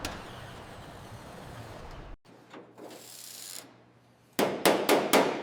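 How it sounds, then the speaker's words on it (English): Hammer-and-dolly work on a junkyard Rolls-Royce's body panels, with scattered metallic taps and then a quick burst of four or five sharp clangs at the end, amid quieter shop noise. "Hammer and dolly straighten body panels."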